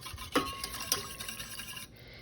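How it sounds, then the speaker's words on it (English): A whisk scraping and clinking around a pot of warm golden milk with cinnamon and turmeric, soft irregular metallic stirring strokes close by, fading out at the end. "I'm just gonna whisk this very well until it's combined."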